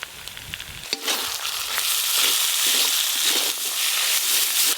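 Chopped tomatoes cook in a pan with salt and turmeric, giving off a bright, continuous sizzle. A few stirring knocks come at the start.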